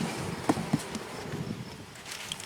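Honey bees buzz around a hive box in a steady, close, low hum that fills the whole stretch, with a couple of brief knocks near the start and no talking.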